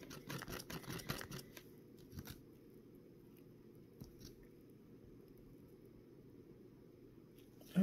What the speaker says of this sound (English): I'm kind of scraping the sides, the bottom